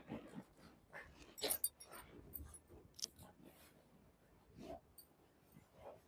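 A small puppy whimpers and whines in short, scattered bursts during a bath, fairly close, with faint splashing and movement in between.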